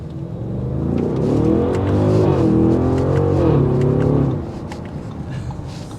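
A 2023 Audi SQ7 SUV's exhaust swells into a strong, rising growl as it accelerates from a green light, then drops off sharply to a quieter cruising hum.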